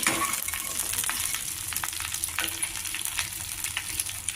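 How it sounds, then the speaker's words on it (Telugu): Chopped okra pieces frying in a hot spice tempering in a pan, a steady close sizzle and crackle with scraping stir strokes throughout, no voices. "పోపులో బాగా మిక్స్ చేసుకోవాలి."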